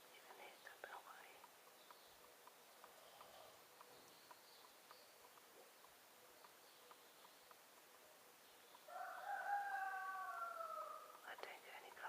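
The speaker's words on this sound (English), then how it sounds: "Oh, shut up, rooster." A rooster crows once, loud and close, near the end, in a poultry pen where a turkey hen is hatching guinea fowl keets; faint rustling and quiet background noise come before it.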